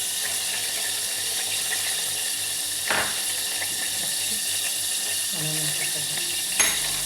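Ginger garlic paste hitting hot oil in a pan, giving a steady close hiss of sizzling that runs the whole time, broken by a couple of short clinks or stirs.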